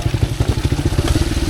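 Motorcycle engine pulsing while riding on a wet road after rain, a loud close throbbing beat with quick regular firing pulses and a rough mechanical clatter.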